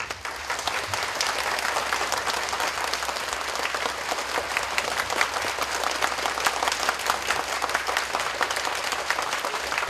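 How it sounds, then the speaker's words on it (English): Sustained applause from guests at a videoconference with a former Philippine president, steady dense clapping filling the whole stretch at an even level with no talk over it. "Let us please give a big round of applause to thank His Excellency and all the distinguished guests."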